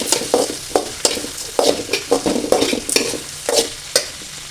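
Chili powder and salt being stirred into a squeezed mixture, a run of close, crisp scraping stir strokes in a quick irregular rhythm with a light sizzle underneath.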